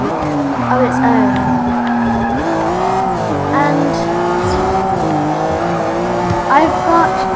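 A Ferrari 575M race build in Forza 6 roars and revs through gear changes as its tires squeal in short bursts, with a voice talking over it.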